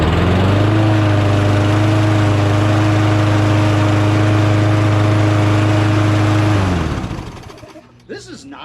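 A Craftsman 22-inch auto-choke lawn mower engine starts at once and runs steadily and loudly at a constant idle for several seconds, then is shut off and spins down to near silence.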